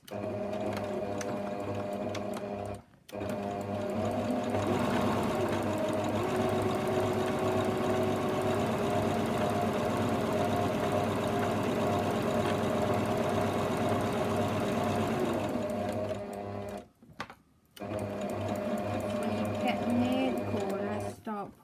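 A sewing machine runs in long steady bursts while stitching an envelope cushion, a close mechanical whir that stops briefly twice before starting again, with no speech over it.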